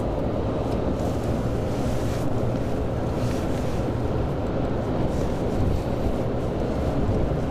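Steady, loud wind rush and road roar while riding in a new Mercedes on a highway in Belgium, continuous broadband buffeting throughout with no talking.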